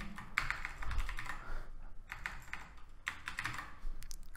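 Keys clatter on a computer keyboard while someone types Python code, a steady run of quick, close taps with short pauses between bursts and no talking.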